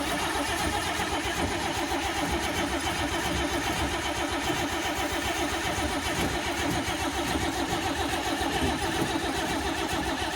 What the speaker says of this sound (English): So put the other plug in and see if we can get it to start up.